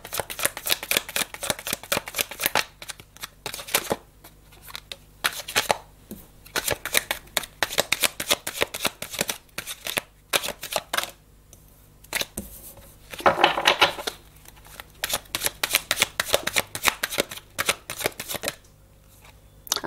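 Tarot cards shuffled by hand in repeated bursts of fast riffling flutters and snaps, close and crisp, separated by short pauses over about twenty seconds.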